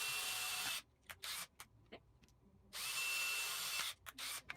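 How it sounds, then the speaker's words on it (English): A power drill whines in two long bursts separated by short stop-start triggers, loud and close with no talking, as it drills wire holes in the top of a sprinkler transformer box. "drill some holes in the top to feed the wires through"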